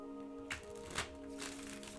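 Tarot cards are shuffled in a few soft riffling bursts, quiet and close over a faint steady hum.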